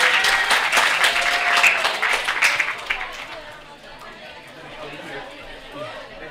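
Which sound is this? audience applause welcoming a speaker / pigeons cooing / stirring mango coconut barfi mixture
audience applause welcoming a speaker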